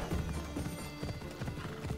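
A horse gallops and whinnies in Assassin's Creed Odyssey, rapid rhythmic hoofbeats thudding close and steady across the whole stretch, with a neigh rising over the pounding gait.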